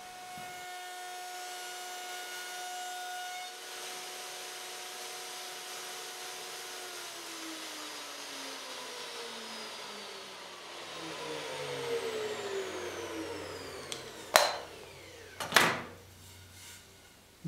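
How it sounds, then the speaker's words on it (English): A router with a fence cuts beading along a narrow strip of wood, a steady broadband whine with tonal harmonics that shifts pitch as the cut proceeds, ending in two sharp loud bursts near the end. "now that I've got the router fence in place, I can use that to make this into beading."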